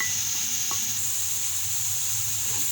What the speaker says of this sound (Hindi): अब ये मसाले डाल दूँगी सारे।